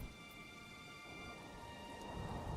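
Steady rain falls on a medieval village in the city-building game Manor Lords, a constant broad hiss with soft patter rising slightly toward the end, faint and with no talk over it.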